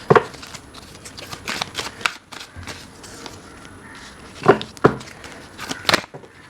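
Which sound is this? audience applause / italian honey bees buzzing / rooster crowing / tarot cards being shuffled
tarot cards being shuffled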